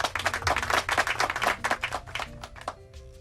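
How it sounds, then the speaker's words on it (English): A single man claps as a plane lands, giving a quick run of sharp, close handclaps that slow and fade toward the end over a low cabin hum, with a short tone at the close. "He claps when the plane lands."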